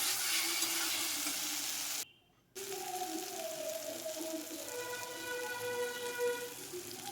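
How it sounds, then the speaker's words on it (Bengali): Chickpeas cook with spices in a pan, giving a soft continuous sizzle that cuts out briefly, then resumes at a gentle, even level. "খুব সুন্দরভাবে মশলার সঙ্গে চানা কষিয়ে নিচ্ছি"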